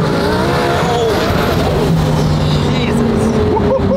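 A twin-turbo Lamborghini Huracán STO of about 1650 wheel horsepower roars close by, engine pitch shifting under hard acceleration, with a brief tire squeal and a loud, busy engine note throughout.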